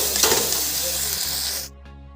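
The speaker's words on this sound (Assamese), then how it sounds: "মই ঢাকনি খুলি অকণমান ভাজি লওঁ" Fish curry with elephant apple frying in a pan, a loud steady sizzle that runs close and continuous before cutting off abruptly near the end, leaving a faint low hum.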